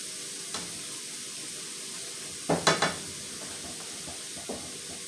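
Food fries in a pan over medium heat, a steady soft sizzle broken by a few short bursts of stirring.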